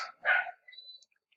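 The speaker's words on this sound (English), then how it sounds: "I'm sorry about the dogs" Indoor dogs give a single sharp bark followed by a shorter, fainter yip, brief and fairly close.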